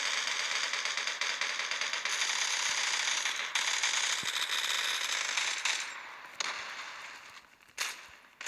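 A bomb goes off in the online shooter game Zula, heard as a long, loud burst of crackling blast noise that rolls on for several seconds before breaking into sharper bangs and fading, with no voices.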